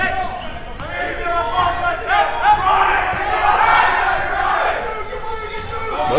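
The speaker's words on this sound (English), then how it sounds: "Both benches very loud, cheering on their teams, as John Baker will be called for a double d" Players on both benches at a high school basketball game shout loudly, with excited cheering voices layered over crowd noise and the thump of a bouncing ball.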